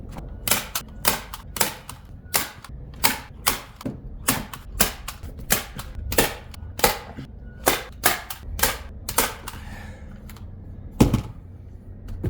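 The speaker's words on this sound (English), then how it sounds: "I just staple this part down." A staple gun fires repeatedly while stapling down trim on a Forest River RV roof, about twenty sharp, close snaps in a steady rhythm, slowing slightly toward the end.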